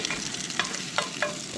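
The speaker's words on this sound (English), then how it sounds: "put the rice in." Rice fries and is stirred in a pan on a camper stove, a steady sizzle broken by a few sharp scraping strokes of the spoon, close and fairly quiet, with no voices.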